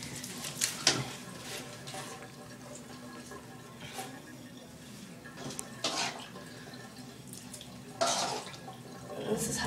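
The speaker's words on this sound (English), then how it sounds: "you're making all the water run out already" Bath water running and draining while a cat named Echo is bathed, a low trickle with occasional splashes and drips, fairly quiet and intermittent in an indoor tub.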